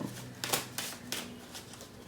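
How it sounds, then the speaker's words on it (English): Tarot cards are shuffled by hand, giving soft papery riffles and slaps in an uneven rhythm, quiet and close, with no one speaking. "let me just start shuffling"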